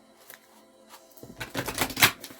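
A deck of oracle cards is shuffled by hand: a quiet stretch, then a dense riffling, flapping burst of cards through the second half, close and fairly loud, with no talking.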